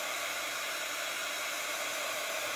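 A heat tool blows a steady, loud, broadband hiss while drying a craft project, continuous and close throughout with no talk.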